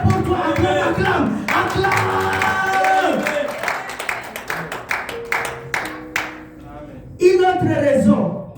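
Church congregation at a thanksgiving service clapping and cheering in acclamation, a dense wash of claps and shouting voices over sustained music, loud and continuous, with a brief dip before a final swell.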